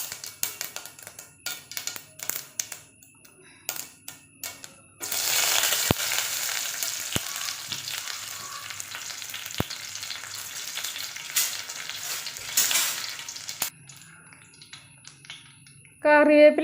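Mustard seeds and curry leaves sizzle in hot coconut oil, a loud, steady crackling hiss that starts abruptly after a few light taps and clicks, runs for several seconds, then cuts off.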